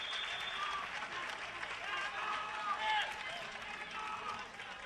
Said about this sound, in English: The applause in the background is for centre half forward Chad Dwyer